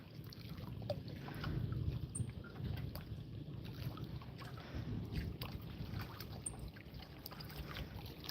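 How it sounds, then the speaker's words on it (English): A boat passes out on a lake or river, a low motor rumble drifting in from a distance under wind noise, with faint outdoor sounds in the background. "Someone out enjoying their day on the boat."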